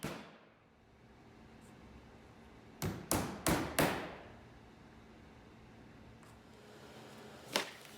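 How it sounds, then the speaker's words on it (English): Finishing nails tapped into wood to mark a boat stem and transom pattern in a workshop: four sharp, close hammer blows in quick succession, then one more isolated tap a few seconds later, against quiet room noise. "I began marking the pattern with an awl, and then I followed that up with some finishing nails"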